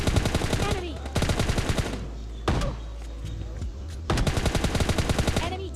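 Bursts of rapid gunfire in the PUBG Mobile Lite video game, three loud rattling volleys with sharp single shots between them, close and dense.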